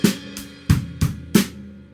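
Drum kit groove from a song's verse, with bass drum, snare and crash cymbals struck together on four loud, evenly spaced hits ringing out, played alone with no talking.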